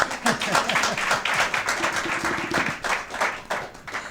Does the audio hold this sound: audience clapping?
yes